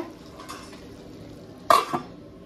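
A metal lid set down onto a pan of ridge gourd and dried prawn curry on the stove, a single near clatter with a short rattle over a faint steady sizzle of cooking.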